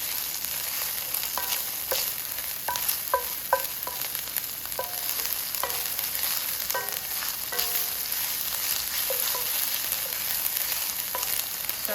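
One small chopped onion and a teaspoon of garlic fry in a pan for pumpkin risotto, giving a bright continuous sizzle broken by repeated clicks of stirring, close by and free of speech.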